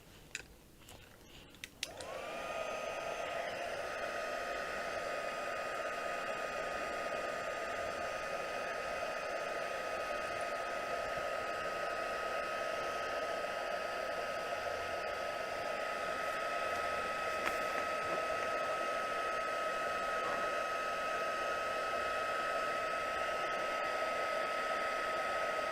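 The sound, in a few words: heat gun heat embossing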